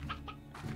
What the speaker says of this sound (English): A chicken just falled on my head.